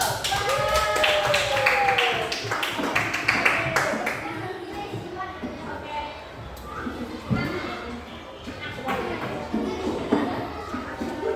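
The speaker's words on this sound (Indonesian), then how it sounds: "Tepuk tangan dulu." Schoolchildren in a classroom clapping their hands, a loose patter of claps mixed with lots of young voices and shuffling, louder at first then thinning into scattered claps and chatter.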